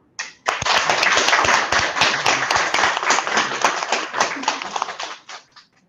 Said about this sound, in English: can I hear your team applauding once again